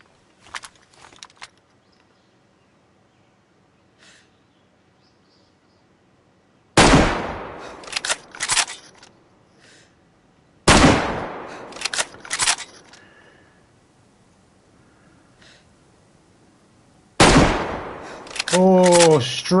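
Gunshots in DayZ on PS5 ring out in three separate loud bursts of several rapid cracks each, separated by near-silence, with brief talk at the start and a voice over the last burst.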